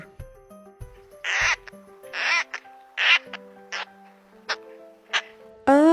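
A woodpecker calls in a series of sharp, repeated bursts, about six over several seconds, heard loud and close over a soft, steady musical background.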